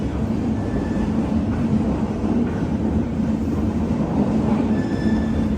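A Hampi Express train pulling out of Mysuru railway station, a steady close rumble of rolling carriages with faint metallic wheel squeals rising now and then, continuous with no voices.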